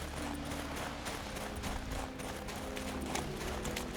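Horse hooves clip-clop in a steady, even rhythm in the video game The Witcher 3, fairly close, with a low background hum underneath.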